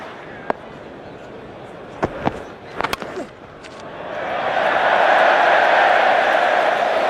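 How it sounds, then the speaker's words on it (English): Test-match cricket crowd at the 2009 Ashes, England against Australia, swells into a broad sustained cheer and applause for a rare boundary, rising after a few sharp claps and lasting to the end. "What a cheer."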